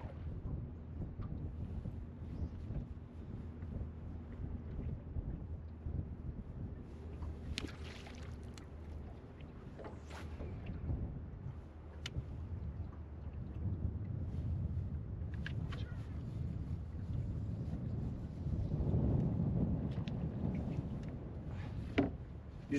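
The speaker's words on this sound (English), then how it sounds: "Man, this wind is brutal, brutal." Strong wind buffets a bass fishing boat on open water, a continuous close rumble of gusts against the microphone with faint water and hull sounds and no talking.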